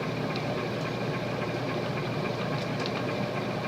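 An antique Emerson Longnose 56-inch ceiling fan motor, oiled with SAE 30 on a worn shaft, runs with a steady, dense hum and faint buzz, close and continuous without any speech.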